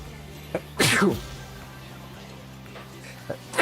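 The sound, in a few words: sneeze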